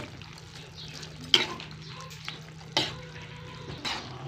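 Glass noodles (sotanghon) are stirred into banana blossom adobo in a quiet pan, with soft wet stirring and three or four sharp utensil knocks against the pot.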